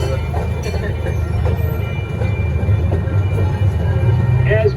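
A zoo train rolls along its rails with a low rumbling drone, faint wheel clicks and occasional squeals, close and continuous, with a voice talking faintly in the background.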